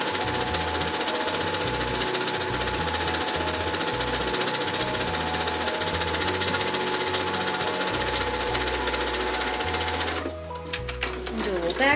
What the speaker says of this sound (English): needle down in the fabric, lift your presser foot just a little, rotate your piece